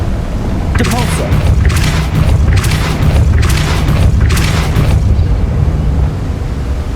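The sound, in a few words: Depulso spell cast in Hogwarts Legacy video game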